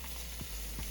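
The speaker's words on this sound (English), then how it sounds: "Sizzle number 2." A single piece of pork sizzles in an oiled, slightly tilted pan while cooking for ramen, giving a soft, steady frying hiss with faint pops, quiet and close with no talk.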